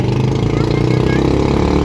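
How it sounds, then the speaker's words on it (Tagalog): Engines idle and rumble in congested traffic on a bridge, a steady mid-range motor drone close by, with a voice briefly heard over it. "Traffic."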